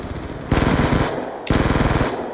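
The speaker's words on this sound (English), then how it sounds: "this is very unique rapid fire at the Scorpion" Scorpion submachine gun in Black Ops 2 fires two loud, close rapid bursts of tightly spaced shots, separated by a brief break.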